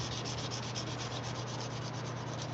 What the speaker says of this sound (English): This sanding is going so well.